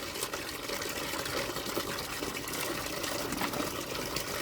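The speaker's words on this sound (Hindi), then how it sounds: "हां और पानी डाल के पूरा साफ कर" Water pours steadily over freshly caught fish being washed in a village, a continuous close splashing gush with no pauses and no voices.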